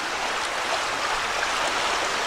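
A brief stretch of steady, rushing water from the wintry, partly icy Swatara Creek, an even wash of noise with no voices.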